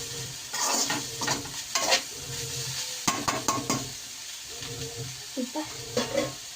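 Chicken rice stirred in a pan, with repeated scraping and stirring strokes over a continuous sizzle, fairly close and loud.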